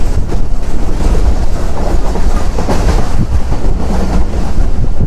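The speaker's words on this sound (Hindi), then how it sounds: "पूरे 8 बजे ट्रेन स्किप कर रही है मुरादाबाद रेलवे स्टेशन को" A passenger train with DU 49002 runs through Moradabad railway station without stopping, a loud close roar of wheels and cars rumbling past continuously with heavy low-end rush and no voices.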